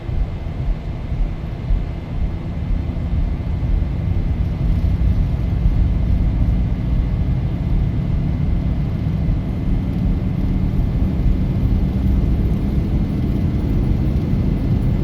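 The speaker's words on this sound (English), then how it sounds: "Bump up the throttles a little bit, hit toga." An airliner's engines spool up to takeoff thrust on the runway at Las Vegas, bound for Denver. A deep, loud, continuous rumble and roar holds steady throughout, with no voices.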